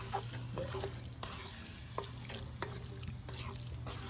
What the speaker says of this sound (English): Now I'll get this stirred up here.